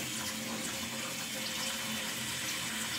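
Steady running water filling a container to soak orchids, a continuous close hiss and splash with no pauses.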